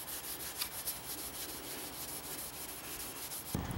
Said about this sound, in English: now I'm just going to go over with a metal scouring pad, just really lightly to blend it out